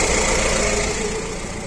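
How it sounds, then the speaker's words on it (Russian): A UAZ 417 engine, a used unit with 50,000 km behind it, idles smoothly and evenly up close, a steady mid-range mechanical drone with no other sounds. "Вот этот двигатель работает, который ровненько."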